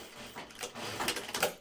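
A sewing machine stitches napkins together in short bursts of mechanical clatter, moderately close, with its rhythm quickening toward the end.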